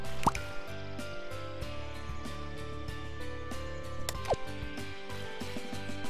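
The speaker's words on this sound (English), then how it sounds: "Magic water." Magic water pouring in the video game Scribblenauts gives a run of bright, repeated drips and liquid plinks over a continuous layered game music bed, with no talking.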